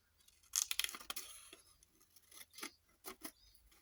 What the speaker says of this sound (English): And trim this up the middle.